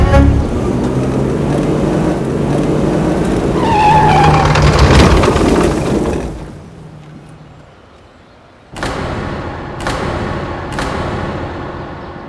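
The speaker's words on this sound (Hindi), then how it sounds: "क्या हुआ मैडम, गाड़ी काहे रोकी?" A car brakes to a stop, its engine and road rumble loud and steady before a brief squeal, then fading into near silence before the next sounds begin.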